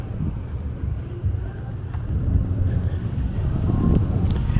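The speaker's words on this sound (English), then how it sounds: "Yeah, a lot of traffic over here." Busy afternoon traffic along East 7th Street near Avenue P in Midwood, Brooklyn, with a low continuous engine rumble and wind buffeting the microphone, occasional faint higher tones above the steady drone.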